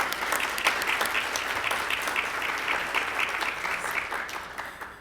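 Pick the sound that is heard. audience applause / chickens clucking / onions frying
audience applause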